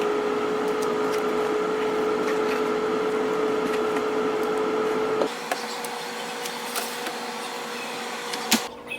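An air fryer baking canned biscuits at 375 gives off a steady close whirring drone that cuts to a lower, quieter hum partway through, with faint clicks near the end.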